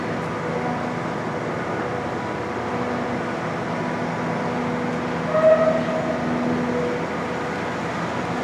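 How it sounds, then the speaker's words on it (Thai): Train rumble and rail noise at a railway station in Vientiane, Laos, a steady broadband hum with a brief louder clank near the middle, no talking heard. "ตอนนี้อยู่ที่สถานีคำสว่าดนะทุกคนนี่ ผู้คนกำลังลงนี่คือสถานีคำสวัสดทุกคน"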